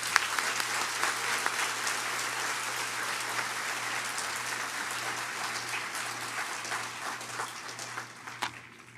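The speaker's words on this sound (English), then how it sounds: "Let's give them a round of applause." Sustained applause from an auditorium audience honoring graduates at a commencement ceremony, a steady dense clatter of clapping that fills the room for several seconds before thinning out near the end.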